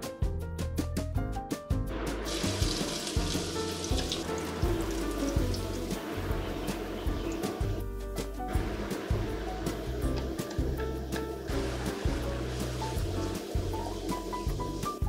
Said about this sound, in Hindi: तेल गर्म होने पर ये इंग्रेडिएंट्स को हम फ्राई कर लेंगे